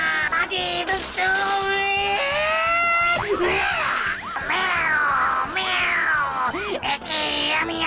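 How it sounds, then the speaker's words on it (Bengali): A cartoon cat meows and caterwauls in long, loud, wavering cries up close, several drawn-out yowls in a row; the meows are voiced by a performer. "মিয়াও"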